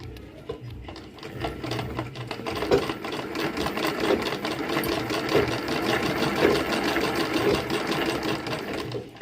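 A zigzag sewing machine runs steadily while stitching the fall edge onto a saree, with a fast, even mechanical whir and rhythmic needle clatter throughout.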